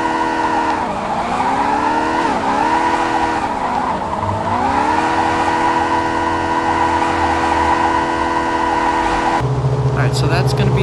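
A car drifts and spins in Car Parking Multiplayer, its engine droning loudly while the pitch swoops with throttle changes and tires screech through the slide, ending in a shift of engine tone.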